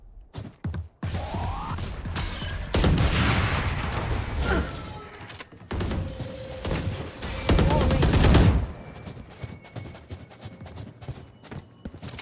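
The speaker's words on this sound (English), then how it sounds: "And here we got some shots." Gunfire in the video game Valorant, with rapid bursts and clusters of shots spread over several seconds at changing loudness, mixed with other game effects.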